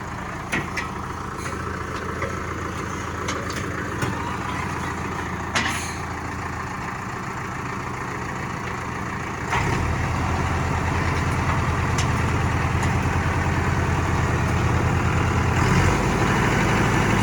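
A heavy diesel engine of a Basak 2110S tractor idles with a steady low rumble that grows louder and rougher partway through, with a few clanks and hisses.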